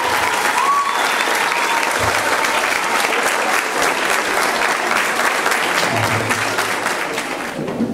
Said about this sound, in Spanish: el mejor pago que ustedes le pueden dar es un fuerte aplauso a cada uno de ellos